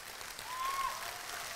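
Scattered audience applause at a spiritual talk or discourse, a steady broadband patter of many hands held at an even moderate level throughout, with no voices over it.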